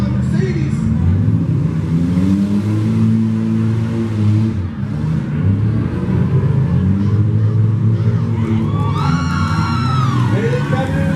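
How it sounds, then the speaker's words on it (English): Demolition derby cars rev and grind through an arena heat with a BMW hitting a Mercedes, engines roaring steadily under a loud announcer's commentary and crowd noise. "BMW just got another qualifying hit on the Mercedes."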